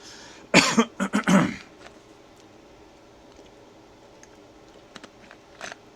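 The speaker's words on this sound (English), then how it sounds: "I coughed into my hand" A burst of three or four harsh coughs up close, followed by quiet with a few faint clicks.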